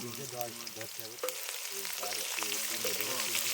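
Chicken meat sizzles and frying in a wok (kadai) over an outdoor cooking fire in a lychee orchard, a steady close crackle running throughout, with tonal voices faintly in the background.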